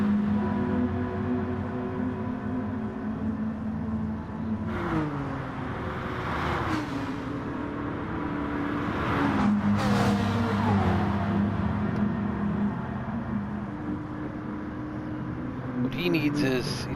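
GT4 race cars, a pair of Ferraris and a Mustang, run at Spa in a racing game, engines droning steadily with gear-shift dips and pitch sweeps as cars pass, all under continuous commentary.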